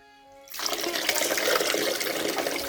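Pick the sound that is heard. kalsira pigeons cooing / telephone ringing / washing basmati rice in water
washing basmati rice in water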